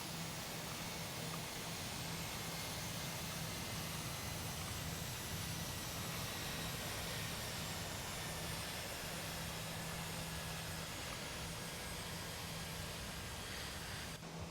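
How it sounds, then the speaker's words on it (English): In the X-Plane 11 flight simulator, with a King Air 350 at Portland International, an aircraft engine drones as a steady, unbroken roar with a low hum underneath for the whole stretch. No voices are present. "I hear an airplane taking off."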